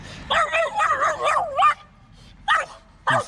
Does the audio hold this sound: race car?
no